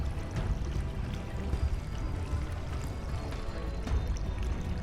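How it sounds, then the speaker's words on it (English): Water steadily filling a flooded chamber in Conan Exiles, a continuous low rushing and pouring wash with no breaks, moderately loud and heard alone without voices. "Wait until the water fills up."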